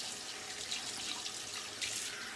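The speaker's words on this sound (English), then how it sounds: "cold water rinse" Cold water runs from a tap for a rinse during a wet shave, making a steady, even hiss of flowing water that neither stops nor pauses, with no voices.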